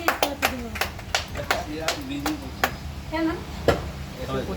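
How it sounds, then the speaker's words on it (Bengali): A group claps loudly at a birthday cake-cutting celebration for a new car, sharp uneven hand claps over people talking in the background. "জোরে হাততালি।"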